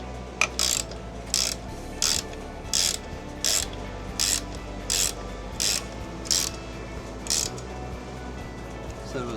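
A ratchet clicks in about a dozen short, regular bursts while tightening a radiator guard on a 2024 KTM 450, close and fairly loud over a low steady background hum.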